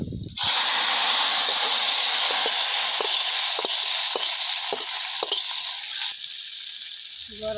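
Dry chilli, bay leaf and panch phoron spices hit hot oil with a sudden loud sizzle, a steady hiss that keeps going while a spoon scrapes and clinks in the pan a few times, and the sizzle eases near the end.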